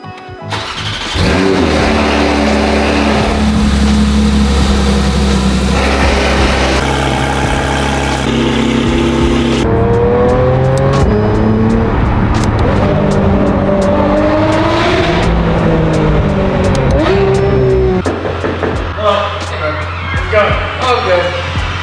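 A daily-driver car engine idles steadily, then revs and pulls away, climbing through several gear changes with a loud, close rumble that runs unbroken for about twenty seconds.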